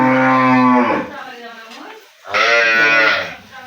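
A young Sahiwal dairy cow, a two-toothed first-calver, gives two long, loud, close moos separated by a short pause.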